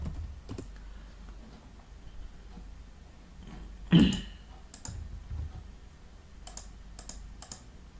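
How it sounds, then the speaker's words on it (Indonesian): Scattered keystrokes and clicks on a computer keyboard while a name is entered in Microsoft Teams, sparse and close with irregular timing and one louder knock midway. "nanti kita tinggal ketik nama"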